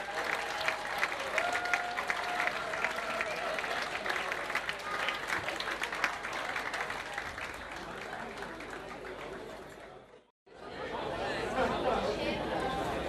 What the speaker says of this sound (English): another big round of applause for these terrific performers.